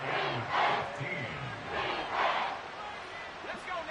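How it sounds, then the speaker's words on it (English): A football stadium crowd roars in the closing seconds of a decided game, swelling in two loud waves and then easing, with a commentator talking over the din. "This crowd turning up the decibel level."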